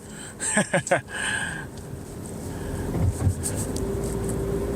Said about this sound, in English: can hear that engine now winding.